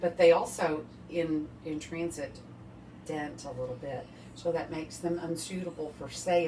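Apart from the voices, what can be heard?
None of the usual background noises is heard.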